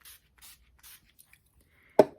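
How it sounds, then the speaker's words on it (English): Setting spray misted over a finished everyday makeup look in three quick, soft, hissing spritzes close by, followed by a brief pause and a single sharp thump as the bottle is set down. "I'll go in with my setting spray."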